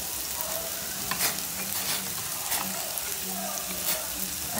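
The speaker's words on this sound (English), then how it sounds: "My rice water comes to boil. I'll add my coconut cream." Coconut cream poured into boiling rice water gives a steady bubbling sizzle with soft stirring scrapes, continuous and close, with no talk.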